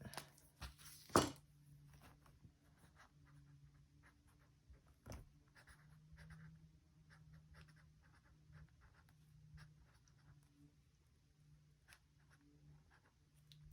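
A Sharpie marker writes on a surface in a quiet room, making faint, brief scratchy strokes scattered through the stretch, with a louder knock near the start and no talk.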